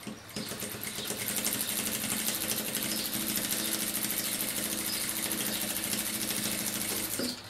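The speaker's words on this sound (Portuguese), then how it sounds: "pode costurar na própria máquina" A sewing machine stitches fabric steadily for several seconds, its rapid needle clatter close and continuous from start to finish, with no voices.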